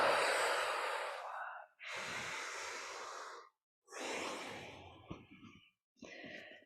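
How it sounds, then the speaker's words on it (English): A slow yoga breathing exercise: a long, soft exhale through the body, then further breaths in three more audible bursts, close and quiet, with no talk. "And exhale."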